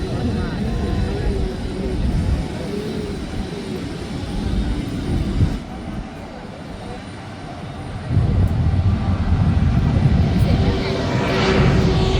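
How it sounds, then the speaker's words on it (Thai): An air force airplane passes over at an anniversary air show at Don Mueang, a loud steady engine roar that swells and shifts over several seconds, with people talking underneath. "ก็เป็นเครื่องบิน กองทัพอากาศนะครับ"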